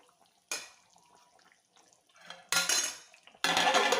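A metal lid is set back onto a pot of beef simmering in gravy on a home stove, giving three sharp clanks with brief rattling after each, close and fairly loud with no voices.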